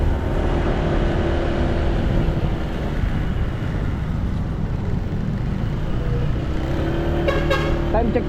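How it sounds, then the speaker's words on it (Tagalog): Steady road traffic with engines rumbling throughout and a few short car horn toots near the end, on a busy street before a typhoon arrives. "medyo traffic na."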